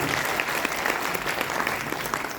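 Audience at an institute retirement ceremony claps for the retiring sir, sustained hearty applause filling the hall at a steady level with scattered sharper claps and no speech.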